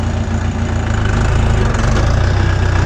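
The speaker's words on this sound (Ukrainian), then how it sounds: "Все, трактор поїхав." Chinese mini tractor diesel engine pulling away in first gear, a loud, close, steady low chugging rumble with a rapid knocking pulse and no speech.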